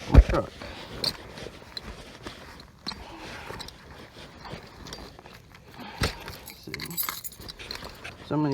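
A bunch of keys jangles in brief metallic bursts near a parked truck while someone talks over it, with rustling and shuffling around.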